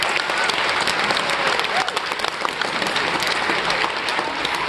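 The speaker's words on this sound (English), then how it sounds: "Can you give them all a huge round of applause?" A live audience at a Robb Nash Project show applauds the crew, steady dense clapping with some crowd noise throughout, loud and sustained.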